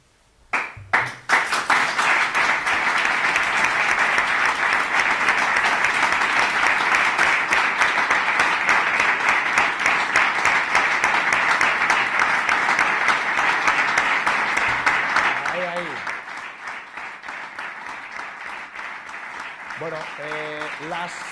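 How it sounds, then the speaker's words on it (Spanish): A loud, sustained ovation for a departing football coach at a Zamora club event, dense clapping from a crowd lasting about fifteen seconds before dropping away to scattered claps and a few voices. "aplauso y ovación cerrada"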